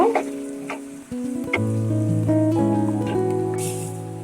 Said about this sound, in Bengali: আমি পেঁয়াজটা একটু বাদামি কালার করে ভেজে নিব।